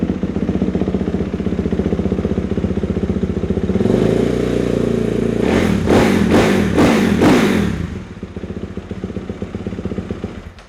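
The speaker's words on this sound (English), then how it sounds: "Quite a calm sort of purr to that engine." A motorcycle engine idles steadily with a low, even rumble, briefly revved in a few quick bursts before settling back to a calm idle.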